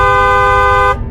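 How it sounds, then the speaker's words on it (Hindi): Bus horn honking in one loud, close, sustained blast of nearly a second, cutting off abruptly. "तभी बस वाले अपने बस का हॉर्न बजाता है"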